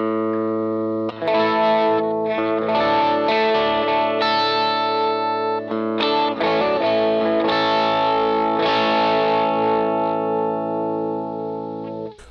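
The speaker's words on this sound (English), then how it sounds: "Very chimey sort of sound." Bright, chimey electric guitar tone shaped by a Line 6 Helix modeler on firmware 2.60, rich in effects: strummed chords and ringing notes with chorus-like shimmer and light drive, sustained and loud throughout with no talking.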